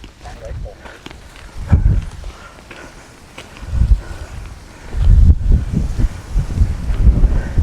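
Strong gusting wind on a foggy mountain ridge at Khao San Aen in Tak, Thailand, buffeting the microphone in low rumbling bursts that swell and fade, while a person talks and footsteps crunch nearby.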